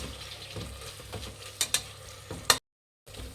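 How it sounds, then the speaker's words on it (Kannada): Tomatoes frying in oil in a pan for lima bean rice bath, a soft steady sizzle with a few sharp stirring clinks and scrapes, ending in a brief silence before the sizzle returns. "ಟೊಮೆಟೊ ಚೆನ್ನಾಗಿ ಸಾಫ್ಟ್ ಆಗಬೇಕು, ಅಲ್ಲಿವರೆಗೂ ಫ್ರೈ ಮಾಡಬೇಕಾಗುತ್ತೆ ಎಣ್ಣೆಯಲ್ಲಿ"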